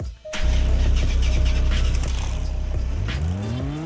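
A 1994 Jaguar XJ220 with a V6 engine in the Roblox game Greenville starts up with a sudden loud rumble, idling roughly, then revs climb with rising tones near the end, close and alone.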